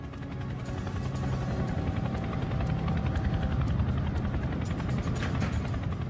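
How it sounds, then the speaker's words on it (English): A large Chinook helicopter roars steadily overhead, flying low, its rotor thudding in a dense continuous rumble, loud and close throughout. "Out sailing, Mark Holbrook hears the sound of a large helicopter coming in low."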